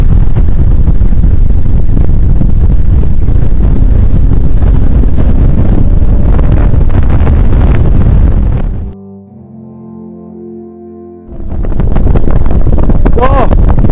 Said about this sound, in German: das ist ganz schön kalt hier oben und windig!